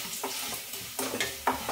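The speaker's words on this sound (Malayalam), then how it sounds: "അപ്പം നമ്മുടെ ഉള്ളിയൊക്കെ ഇവിടെ മൂത്ത് സെറ്റായി വന്നിട്ടുണ്ട്" Onions frying in a pan give a brief close sizzle, broken by three or four quick stirring scrapes.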